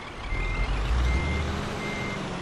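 Steady electronic reversing beeps from a truck backing a trailer in Euro Truck Simulator 2, repeating over a low diesel engine rumble, close and clear with no talk.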